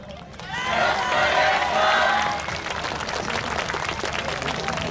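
Audience at the 2018 Kamisu Maicchage dance festival: a loud crowd cheers and claps, and a raised voice rings out over the noise before the applause settles into a steady, dense patter.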